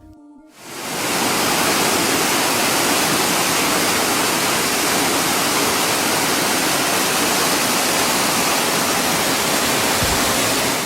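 Eternal Flame Falls at Chestnut Ridge Park, New York, sets up a loud, constant roar of falling water that swells in after a brief quiet moment and holds steady throughout.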